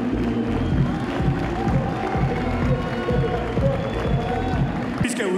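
Audience at a Muay Thai welterweight fight night cheers and claps in a steady crowd roar, with a loud announcer speaking over the noise throughout.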